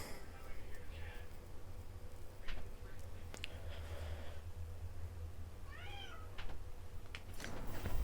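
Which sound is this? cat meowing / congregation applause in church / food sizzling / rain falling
cat meowing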